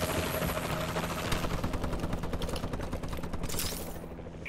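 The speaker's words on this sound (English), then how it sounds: "Friendly warbird in the air." A friendly Warbird aircraft passes overhead in the video game Call of Duty: Advanced Warfare, a dense whirring rotor-like drone with a rapid pulsing beat over continuous game noise, loud throughout and fading near the end.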